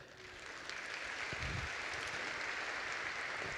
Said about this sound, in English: If there's applause after every thank you, I'm not going to get through it